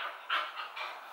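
A dog pants close by in a few quick, breathy huffs, each puff rising and falling in an uneven rhythm against a quiet background, with no talking.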